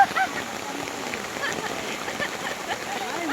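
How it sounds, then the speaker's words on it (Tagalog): Steady rain falls outdoors on a mountain, with a continuous hiss and patter of drops at moderate loudness throughout, and faint voices sound underneath. "It's raining."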